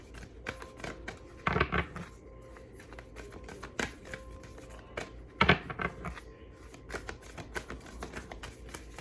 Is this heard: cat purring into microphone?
no